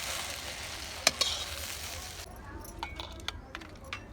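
Okra (bhindi) sizzles in a pan for a Chhattisgarhi dish, a steady hiss of frying that drops lower partway through, with a couple of sharp clinks of a utensil early on and light scraping taps later.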